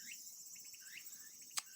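Summer outdoor ambience in Kyoto: a steady high-pitched drone of cicadas fills the background, with faint chirps and a sharp call near the end that could be a crow, all fairly distant and quiet.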